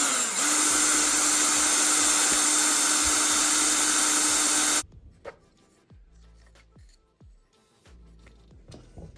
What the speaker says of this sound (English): I am gonna take a drill bit here and put a pilot hole into the broom.